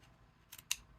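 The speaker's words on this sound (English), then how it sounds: "So I just put my tip in the corner and snip it." Two crisp scissor snips close by, a softer cut then a sharper, louder one, as the tip trims the corner of a Crafter's Companion Green Template Library pop-out square card template in an otherwise quiet room.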